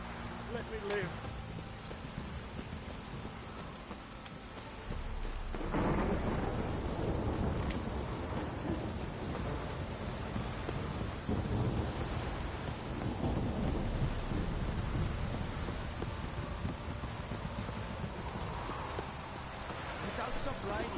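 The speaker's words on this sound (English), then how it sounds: "This downpour's a bastard, it is." Heavy rain pours steadily in a Witcher 3 storm, with low rumbling thunder rolling through and swelling after the first few seconds, a continuous loud wash with a voice briefly heard over it.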